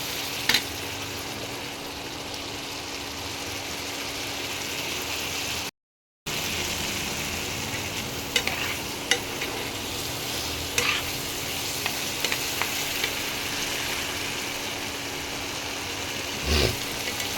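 Spiced masala for chana murgh sizzles and fries steadily in oil in a pan while being stirred, a continuous close hiss with small scraping clinks and no talk.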